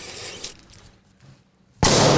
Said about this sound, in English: A firecracker!